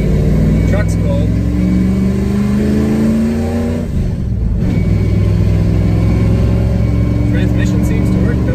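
Ford F-150 pickup with a T5 manual transmission swap, running cold, its engine rumbling close and loud with a rising rev that dips and then builds again.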